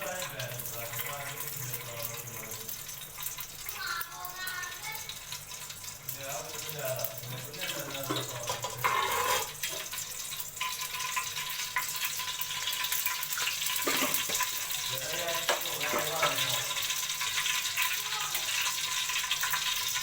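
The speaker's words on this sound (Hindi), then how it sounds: "अब इसके अंदर ऑयल डालेंगे।" Cooking oil pouring into a cooking pot on the stove for salted rice, a steady liquid hiss that runs the whole time with low kitchen background noise.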